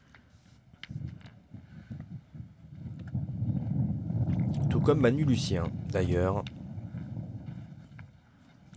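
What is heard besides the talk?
wind blowing into the microphone outdoors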